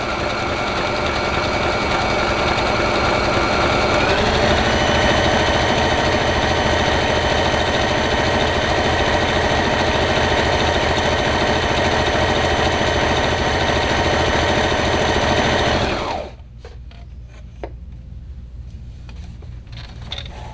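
A sewing machine runs loud and steady while stitching a pillowcase dress, holding a continuous mechanical whir for about sixteen seconds before stopping abruptly, followed by a few faint handling clicks.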